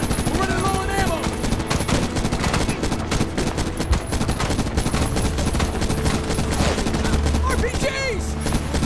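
Dense, continuous gunfire in a Medal of Honor video game battle, with rapid overlapping shots and bursts at close range, shouted voices woven through the clamor.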